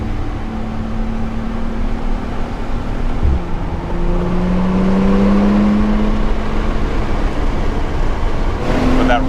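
A Porsche 911 Turbo's engine pulls hard under acceleration, a steady loud drone rising in pitch as it shifts gears, heard from inside the cabin with constant road noise.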